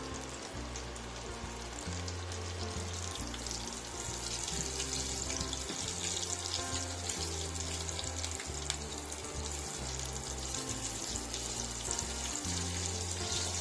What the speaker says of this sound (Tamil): ஸோ இப்போ நம்ம இதை ஃப்ரை பண்ண ஆரம்பிச்சிடலாம்.